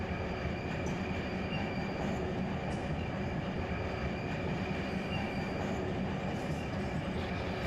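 Train cars in a railroad simulator game grind and squeal steadily while rolling downhill under light braking, a dense continuous rumble with high metallic squeal tones running throughout, no talking.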